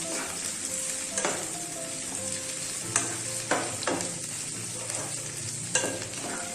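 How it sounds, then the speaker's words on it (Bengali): Three types of capsicum and green chillies sauté in a hot pan, sizzling steadily while a spatula stirs them with several sharp scrapes and knocks against the metal, close up with no talking. "এবার আমরা দেবো হচ্ছে 3 টাইপস অফ ক্যাপসিকাম, তারপরে দেবো হচ্ছে কাঁচা লঙ্কা। এটা একটু সতে করতে হবে।"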